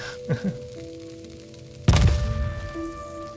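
A single heavy, booming bomb explosion in a mining video game erupts partway through after a quiet stretch, its rumble trailing off; a couple of faint soft knocks come earlier.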